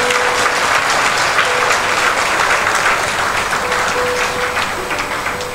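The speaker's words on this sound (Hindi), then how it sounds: "इनके लिए ताली बजाओ जोरदार।" A large devotional gathering breaks into loud, sustained applause in honor of 25 pilgrims from Madhya Pradesh, the dense clapping holding steady throughout and easing only slightly near the end.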